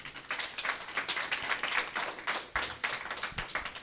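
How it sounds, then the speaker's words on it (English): Audience applause after a children's musical drama about Sudama Vipra: dense, uneven clapping from many hands, fairly steady and moderately loud, with a few sharper claps standing out. "they need a very big applause"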